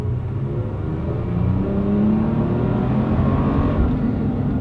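A Toyota Tacoma pickup pulls away and accelerates, a steady close engine rumble with a gradual rise in revs, heard from inside the truck.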